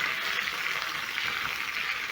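Bok choy frying in a hot pan gives off a dense, continuous close sizzle, bright and even throughout without any voices.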